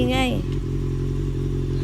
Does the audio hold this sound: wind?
no